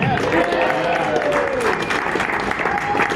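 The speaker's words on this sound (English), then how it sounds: "Applause for Chris." A crowd applauds steadily throughout, with some cheering and whoops mixed into the clapping.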